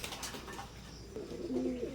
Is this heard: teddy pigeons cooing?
yes